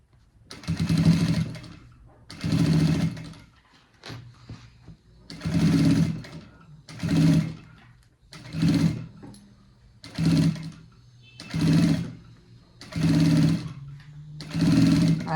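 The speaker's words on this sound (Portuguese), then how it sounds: "a gente entra na máquina fazendo a nossa costura de acabamento aqui, nessa parte do nosso bolso da frente" A sewing machine stitches a finishing seam on a front pocket, running in roughly ten loud, even bursts of rapid mechanical whirring, each separated by brief pauses.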